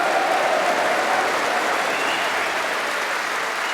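Sustained applause from a snooker crowd at the 2024 Masters final, greeting a century break by Ronnie O'Sullivan against Ali Carter; steady, dense clapping fills the arena from start to finish without speech.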